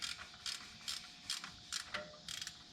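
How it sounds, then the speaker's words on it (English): A socket wrench loosens a half-inch bolt on the bottom bracket of an alternator on a 1966 Chevrolet Bel Air, giving a run of quiet, evenly spaced ratcheting clicks, close and faint. "So we unscrew the bottom, which is a 1/2 inch."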